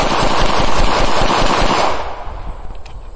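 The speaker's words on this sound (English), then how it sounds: "Should I do rapid? Rapid shooting?" A Canik Rival pistol fired in rapid succession at a target, a fast string of loud, close shots lasting about two seconds before stopping.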